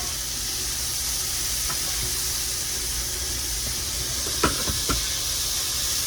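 Onion softening in a hot pan for green bean almondine, a steady broadband sizzle close by with a few brief clicks of a utensil near the end, no talking.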